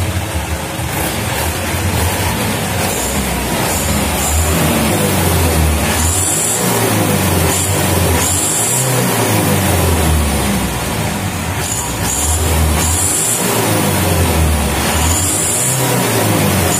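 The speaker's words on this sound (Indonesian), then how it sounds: "nih kondisi truknya Canter 2011 Super Speed" A 2011 Mitsubishi Canter Super Speed truck engine runs loudly and steadily close by, its revs rising and falling in repeated surges over a constant rough rumble.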